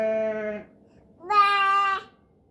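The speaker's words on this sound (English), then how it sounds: "That was a sheep." A sheep bleat played through an Alexa smart speaker as part of an animal-sounds game, two drawn-out wavering calls separated by a short pause, clear and close with no talk.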